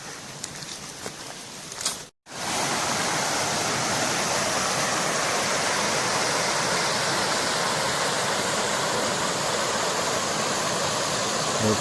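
River water rushes and flows in a dense, loud, steady roar close by, briefly cut out at the start before resuming continuously, with no voices.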